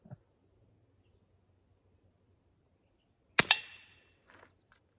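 A German-made .177 caliber (4.5 mm) air pistol fires once at a target, a single sharp, close crack with a brief metallic ring after a long quiet stretch, followed by a few faint clicks.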